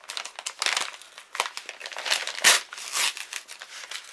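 A paper envelope is handled and torn open, with close, loud crinkling and crumpling bursts coming in irregular waves and one sharp rip partway through.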